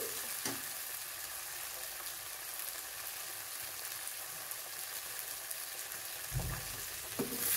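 Potatoes and chickpeas frying in a pan over a high gas flame for a Rajasthani potato-chickpea curry, a steady dense sizzle throughout with a couple of brief stirring knocks near the end.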